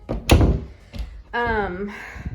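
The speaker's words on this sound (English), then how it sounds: "Let me shut the door." A door is pushed shut inside a home, giving a couple of close, dull thuds, followed by a person speaking.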